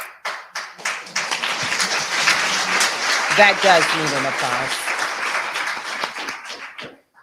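Scattered claps build into full audience applause at a lawyers' association event, swelling loud, then thinning to a few last claps, with a voice speaking and laughing over it.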